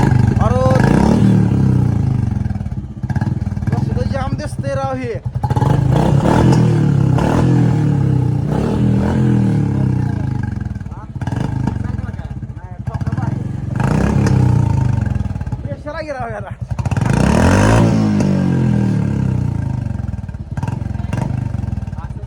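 Royal Enfield Bullet motorcycle engine running with a loud, steady thumping idle and some revving, close by, while people talk over it throughout.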